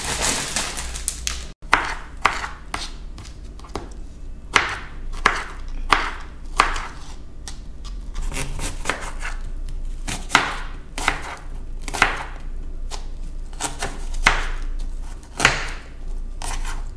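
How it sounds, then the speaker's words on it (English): A knife chops spinach and other vegetables on a cutting board, sharp close thuds landing in irregular bursts, some quick runs and some single strokes, against a quiet background. "And then I'll go ahead and move on to the chopping."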